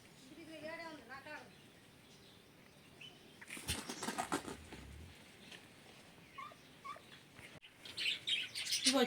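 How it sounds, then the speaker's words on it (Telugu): Lovebirds at a temple give sharp repeated chirps and quick bursts of flapping wings, fairly close but faint overall, with people talking around them. "ఇవి వచ్చేసి లవ్ బర్డ్స్"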